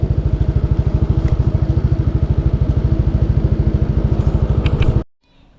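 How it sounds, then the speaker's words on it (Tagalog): A parked motorcycle idles loudly up close for about five seconds with a steady, rapid putter, then cuts off abruptly into near silence. "pinark ko muna yung motor ko dito sa tapat ng The Orabella Residence"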